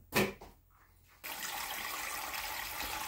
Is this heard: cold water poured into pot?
yes